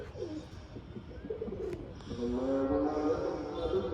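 Pigeons cooing close by, with soft murmuring calls that swell into a louder, sustained burst of overlapping coos partway through, over a low background rumble.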